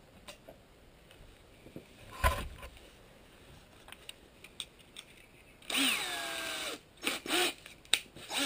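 A power drill drives short self-tapping screws into trim on a teardrop trailer build, with a loud close burst of motor whine rising in pitch, then shorter bursts, following scattered handling clicks and a thump; no speech.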